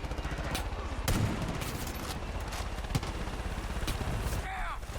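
Gunfire in the video game Far Cry 5: dense overlapping shots and bursts crackle throughout amid chaotic battle noise, with scattered sharp louder reports.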